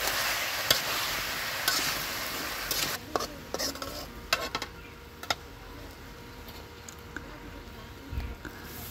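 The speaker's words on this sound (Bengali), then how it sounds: "এভাবে আমি কিছুক্ষণ পর পরই নেড়ে চেড়ে ভালো করে আমগুলোকে ভেজে নেব" Mango pieces being stirred and fried in a pan for a sweet-sour mango pickle: a steady sizzle with repeated scraping and clinking stirs, close and moderately quiet.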